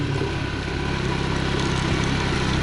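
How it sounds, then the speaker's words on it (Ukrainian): A motorcycle engine runs steadily at moderate speed, a continuous low rumble with road noise, close and fairly loud throughout. "мотоциклі от так от можна їхати з такою середньою швидкістю"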